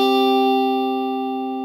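An electric guitar plays a note from the riff on the 4th string, heard as one steady, sustained, fairly loud tone that slowly decays with no talking.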